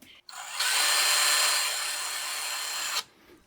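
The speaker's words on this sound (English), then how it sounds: "I've got to drill one more hole." A power drill boring a hole in stripboard whirs steadily for about two and a half seconds, a close, bright buzzing that starts abruptly and cuts off, with brief quiet before and after.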